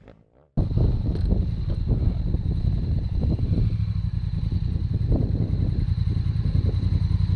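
An enduro motorcycle rides figure eights, its engine close and loud with a rasping, revving drone that rises and falls through the turns, starting abruptly after a brief quiet moment, with wind buffeting the microphone.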